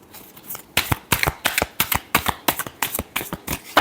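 Tarot cards are shuffled close up in quick, crisp riffles, a dozen or so papery flicks in an even rhythm with no talking.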